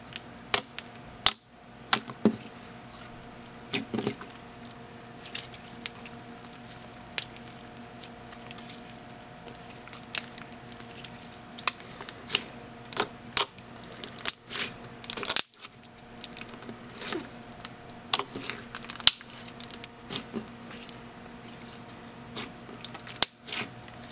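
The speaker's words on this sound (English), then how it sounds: "take your toilet paper and take one square off at a time and then mix that in" Homemade butter-style slime made without clay or cornstarch is worked with squares of toilet paper, giving close, quiet sticky squishes and crackly pops scattered irregularly over a soft steady background hum, with no talking.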